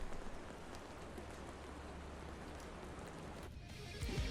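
Rain weather effect in the video game Far Cry Arcade: a steady, dense hiss of falling rain, even and continuous, briefly thinning near the end before a low thump.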